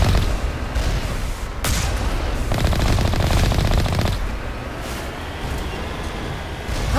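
Automatic turrets in the video game Mass Effect 1 fire in loud, rapid sustained bursts, with dense machine-gun rattling and heavy booming impacts filling the scene before easing into a rumbling backdrop.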